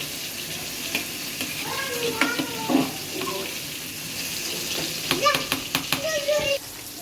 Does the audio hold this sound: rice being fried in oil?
yes